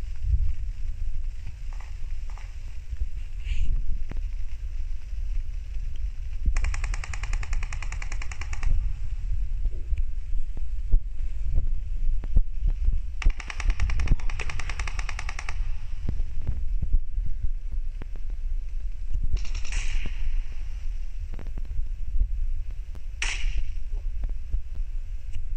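Gunfire in a PUBG-style battle royale game, scattered distant shots and short bursts over a steady low hum.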